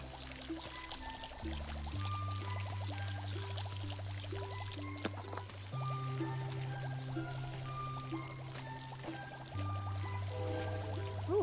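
Steady, continuous rush of spraying water in the video game Fresh Start Cleaning Simulator running throughout, with shifting low hum underneath and faint game sounds; no talking.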